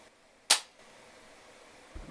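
A single sharp pop from a CYMA P.1158B airsoft rifle firing as the trigger is pulled indoors in a bedroom, followed by quiet room tone and a faint thump near the end.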